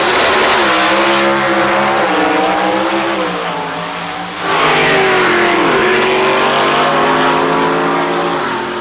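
Ford Thunderbird race cars roar along a track, engines revving and climbing through gears with loud, rising whines, briefly dipping before surging again close by.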